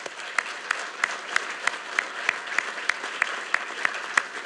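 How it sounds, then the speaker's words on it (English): A graduation audience at the U.S. Naval War College gives a sustained round of applause, a dense wash of clapping with a few sharper claps standing out in a regular beat throughout. "Let's give them a round of applause."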